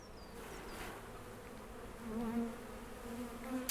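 Honey bees buzz steadily close by at a hive on a cool day, a dense humming drone with a few individual insects passing, no voices.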